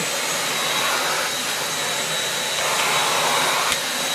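A Meiyou stick vacuum cleaner runs steadily on carpet, giving a continuous, fairly loud whooshing hum that swells slightly in places, heard up close with no talking.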